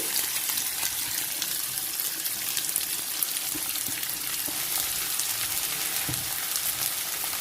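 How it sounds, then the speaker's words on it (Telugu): Chopped onions hit hot oil in a pan with mustard seeds and urad dal, giving a dense, continuous sizzle and crackle with occasional sharper pops, steady and close, with no talking. "తర్వాత ఇందులో మనం కట్ చేసుకున్న ఉల్లిపాయ ముక్కలను వేసేసుకోవాలి."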